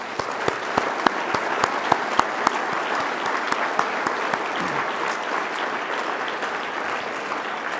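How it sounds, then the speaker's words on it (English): Loud, close audience applause for student team leaders at the EcoCAR Mobility Challenge Year 4 awards, a dense round of clapping with a few sharp individual claps standing out, steady for the whole stretch. "Let's give them all a round of applause."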